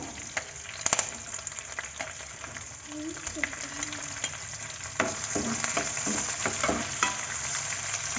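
Curry leaves and cumin crackle in hot oil as sliced onions are added and stirred, a continuous close sizzle with scattered pops and spoon scrapes, growing slightly louder partway through.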